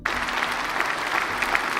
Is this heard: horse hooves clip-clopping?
no